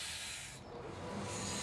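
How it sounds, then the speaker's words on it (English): A genuine coal-fired steam locomotive at the Cedar Point amusement park lets off a steady, loud hiss of steam that dips briefly before surging again. "Cedar Point is one of the few parks in the world to be running genuine coal-fired steam locomotives."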